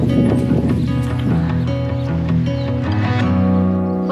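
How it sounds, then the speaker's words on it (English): A horse carrying a rider up a mountain trail on the Camino de Santiago, steady clip-clop of hooves under a loud, busy layer of sustained tonal sound that partly masks the footfalls. "I'm taking it on horseback"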